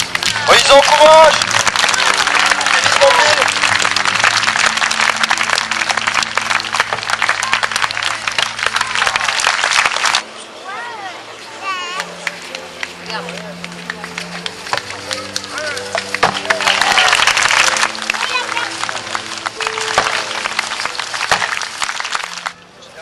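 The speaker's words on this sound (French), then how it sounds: "Alors on les applaudit, on les encourage." A festival crowd applauds horse riders in a Roman gallop show: loud, dense clapping fills the first ten seconds, drops to scattered claps under a loudspeaker voice with music, then swells again.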